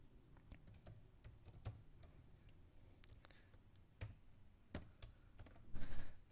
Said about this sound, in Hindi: यहाँ पर हम लोग टाइप कर लेते हैं नेम ऑफ